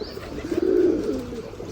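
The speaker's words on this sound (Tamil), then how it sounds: "கிணத்துக்குள்ளே ஒரு எட்டு புறா பக்கம் இருக்குங்க நான் உங்களுக்கு காட்டுறேன்" Pigeons in a well coo softly and low, a single murmuring call swelling in the middle, with a faint hollow echo from the enclosed shaft.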